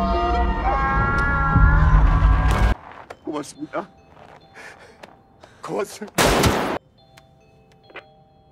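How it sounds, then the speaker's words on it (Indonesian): Gunshots from Squid Game 2 as a guard fires on a contestant: a few sharp, loud bangs scattered among gasps, shouts and dramatic film sound, with speech around them. "tetapi Aul masih menembak bapak itu"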